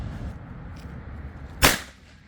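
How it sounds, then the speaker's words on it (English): A 209 shotgun primer fires in a 12-gauge perimeter trip alarm: one sharp, loud crack against quiet background hum, followed by a brief fading tail. "Next, we'll take our 209 primers and use it with our 209 primer adapter."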